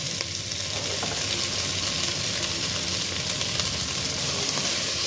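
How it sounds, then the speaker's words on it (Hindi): Fenugreek (methi) leaves frying in oil, a dense, even sizzling hiss held steady and close for the whole stretch, no voices. "इसमें हम ये जो मेथी है ये डालेंगे और इसको थोड़ा सा भून के लेंगे"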